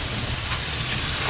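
Burger searing on a grill grate set over a wood fire in the firebox of a Lone Star Grillz 24x36 offset smoker, giving a steady, close broadband hiss and sizzle that holds level throughout with no talk.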